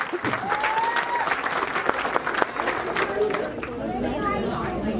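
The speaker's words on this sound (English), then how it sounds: "please give a big round of applause to them" An audience breaks into loud, sustained applause with cheering, while voices chatter and call out over the clapping throughout.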